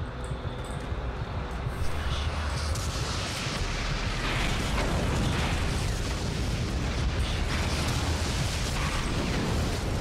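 A plasma rifle fires in Doom 3, a dense, continuous stream of buzzing bursts over a heavy rumble. It starts quieter and grows steady and loud after a couple of seconds, with no voices.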